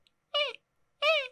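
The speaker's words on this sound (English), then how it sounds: "my cat is sitting outside the door going," Two loud, close meows from a cat behind a door, each drawn out and falling in pitch, separated by a short silence.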